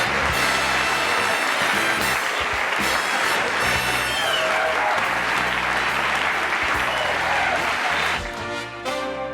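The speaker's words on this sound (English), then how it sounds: "I'm humbled by that applause." Studio audience on a 1984 Johnny Carson talk show applauding loudly and continuously, dense and sustained, with music playing underneath and a tonal sting near the end.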